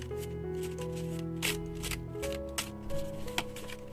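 Cards being shuffled for a card reading: quick riffling flutters and soft slaps in a steady run, close and clear, with gentle background music underneath.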